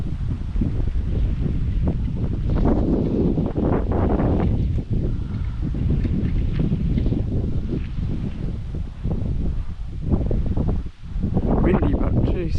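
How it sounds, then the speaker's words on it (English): Strong wind sweeps across a riverside campsite at Macrossan on the Burdekin River, a loud, continuous buffeting roar that fills the whole stretch and barely eases. "Windy, but jeez."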